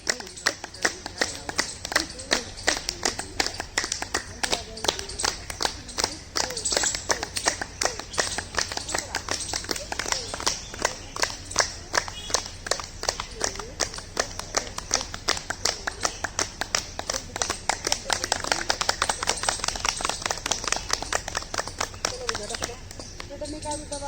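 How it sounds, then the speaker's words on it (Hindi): Rhythmic hand clapping from a yoga class fills the whole stretch, a steady fast beat of sharp claps carried by a group and running on without pause. "ताली वादन"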